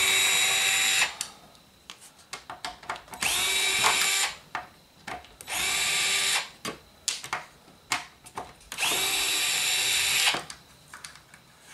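A power drill unscrews the front bumper from a toy-grade New Bright RC truck, whirring in four loud, sustained bursts separated by quieter ratcheting clicks and handling noises.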